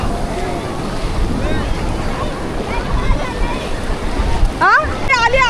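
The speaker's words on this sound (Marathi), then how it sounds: "लाट आली लाट आली." Sea waves wash and surge along Kashid beach in a continuous roar mixed with wind buffeting, while voices and excited calls sound over the surf throughout.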